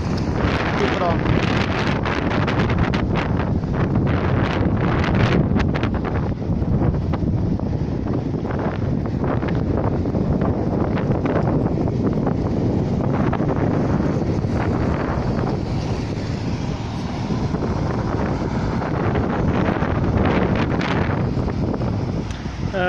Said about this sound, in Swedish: Vad det blåser